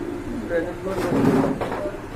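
Low, throaty pigeon coos roll softly through the clip, close by, including a pair of uncommon pigeons such as Spanish pouters, with a murmuring voice faintly underneath.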